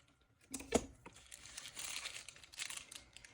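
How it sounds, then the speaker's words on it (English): A tiny tip snipped off during a crackle-back spring flower bloom craft, a single sharp close snip followed by soft crinkling and rustling handling noises, quiet and alone. "so just going to cut a tiny tip"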